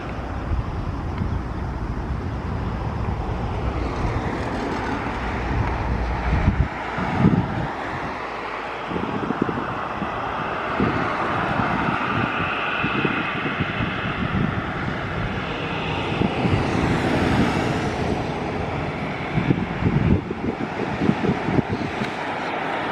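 Airliner landing at Zakynthos with thrust reversers engaged, a loud sustained broadband engine roar rising and holding over steady wind buffeting on the microphone, heard from nearby outdoors.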